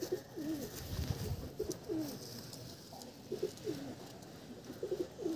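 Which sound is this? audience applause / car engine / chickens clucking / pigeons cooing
pigeons cooing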